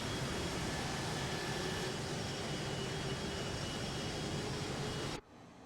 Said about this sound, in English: The awesome thing was hearing the whine from the A220 engines